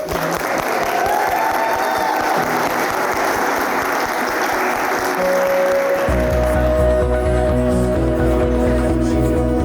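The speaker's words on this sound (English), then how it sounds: "And I think that deserves a round of applause." Wedding guests applauding in a barn venue after the vows: a broad, steady wash of many clapping hands, loud and continuous, with music swelling in beneath it partway through.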